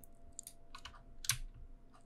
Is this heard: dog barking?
no